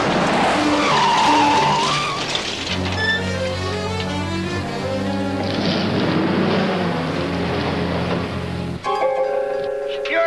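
A tractor rams toward a car and skids, starting with loud tire squeal and scraping, then a steady heavy engine drone and more skidding, all close and loud.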